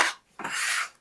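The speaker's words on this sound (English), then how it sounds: "We're going to use our bench scraper to" A bench scraper scrapes chopped slaw vegetables across a cutting board in two short, close, gritty strokes, the second longer and smoother.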